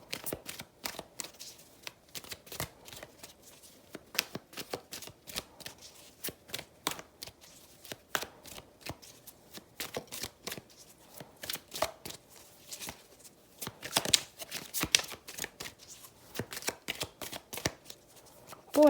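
A tarot deck is shuffled by hand in steady, crisp flicks and riffles that repeat close and clear for the whole stretch, with no voices.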